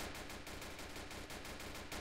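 Rapid automatic gunfire in a shooter video game, a quick rattling string of shots at an even rhythm, fairly quiet and without talk.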